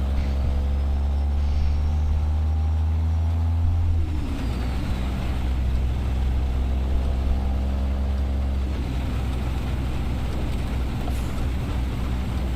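Heavy truck engine in American Truck Simulator, hauling heavy equipment, a loud steady low drone that shifts in tone partway through as the rig changes speed, with no talking.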